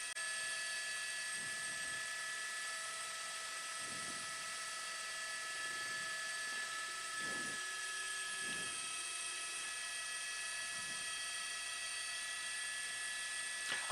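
A news helicopter holds about 1,000 feet over a South Los Angeles police chase, its steady whine and rotor drone constant and fairly faint throughout, with a few light mechanical clicks.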